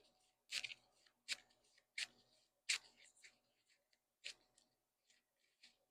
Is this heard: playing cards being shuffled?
yes